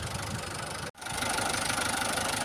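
Tractor engine running at a steady, moderate idle while the sprayer tank fills, with a brief dropout before the even mechanical hum resumes, close and alone.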